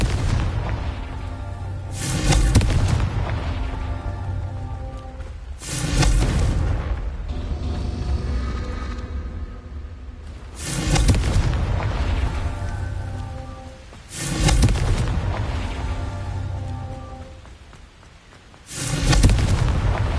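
Confringo fire spell explosions in the Hogwarts Legacy video game, several heavy booming blasts recurring every few seconds, each trailing into a rumbling, crackling roar between hits.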